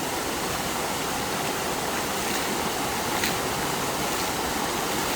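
Water rushing steadily through a water feature at Epcot in Walt Disney World, a dense, even wash of splashing noise heard close and continuous, with no voices.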